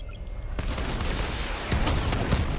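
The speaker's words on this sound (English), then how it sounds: "Missile barrage level 2 ready." Rapid missile barrage launching in Batman: Arkham Knight, a dense, loud rush of repeated blasts and bursts that starts abruptly after a brief quieter moment and keeps going without pause.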